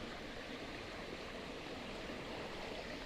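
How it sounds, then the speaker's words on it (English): Running water in a stream beside grapevines in a valley at Pemuteran, north-west Bali, giving a steady, even rush that fills the whole moment without pause or voices. "It's just the sound of running water."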